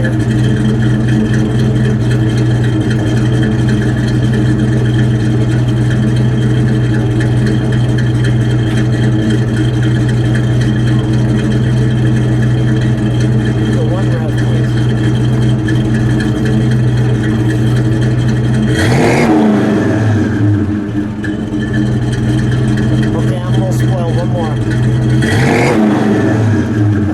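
A 1973 Ford Gran Torino Sport with a 351 V8 drones steadily while cruising, then kicks down and surges louder with rising revs twice near the end, heard from inside the car with no talking.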